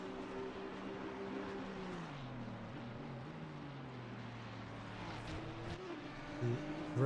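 Ferrari GT race car in a racing video game at Kyalami, a steady engine drone with pitch falling and rising through a hillside hairpin, heard at moderate distance and fairly quiet.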